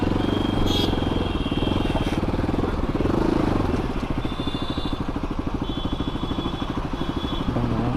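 A motorcycle fitted with a cheap Rs200 aftermarket exhaust idles nearby, its engine putting out a steady rapid chugging pulse that stays loud throughout the eight seconds amid faint street noise.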